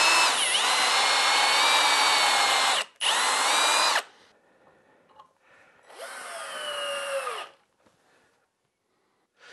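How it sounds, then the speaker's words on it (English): Power drill countersinking a screw hole in a wooden board, a loud close whine running in two long bursts with a short break, then a fainter, shorter run before quiet. "Now I'm going to countersink it."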